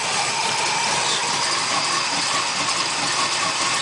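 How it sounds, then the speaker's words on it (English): A cold 396 big block V8 with exhaust manifolds rather than headers and no choke runs steadily at a constant, loud, even rumble with no voices. "I just wanted to demonstrate a running 396 big block"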